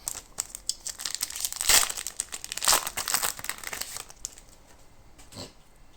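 Foil wrappers from Weiss Schwarz trading card packs crinkling and crumpling in the hands, a dense close rustle that peaks, then thins out toward the end.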